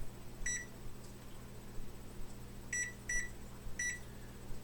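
An electronic kitchen timer beeps while onions are cooked for hot dogs, one short high beep followed by a quick group of three, faint and alone over a low steady hum.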